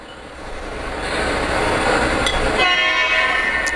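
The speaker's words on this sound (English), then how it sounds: "That diesel horn tells me it's connected" Model Norfolk Southern diesel locomotive horn on a model railroad layout, a loud sustained tonal blast rising over mechanical train rumble, heard close and without talk.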